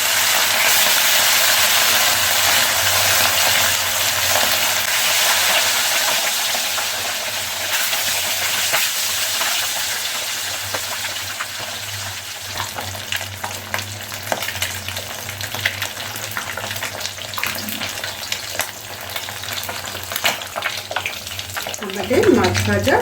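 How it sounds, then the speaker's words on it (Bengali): Rohu fish pieces frying in hot oil in a wok, a loud, dense sizzle and hiss close at hand that eases gradually over more than twenty seconds, with scattered crackles and a stirring scrape near the end. "এবার আমরা একটা একটা করে মাছটাকে ভালো করে ভেজে নেব।"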